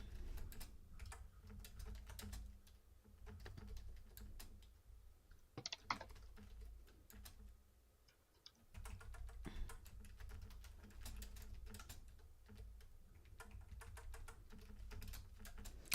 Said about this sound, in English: I know the typing sounds loud.